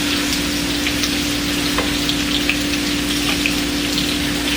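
Red potatoes and bacon sizzle steadily in a hot pan, a dense continuous frying hiss with scattered pops and spits throughout, close and fairly loud with no talking.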